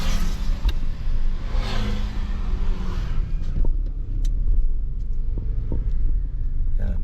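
Steady road traffic rumbles across the long Buntun Bridge in Cagayan, a car engine droning close by with a brief revving swell, continuous and fairly loud with no talk over it.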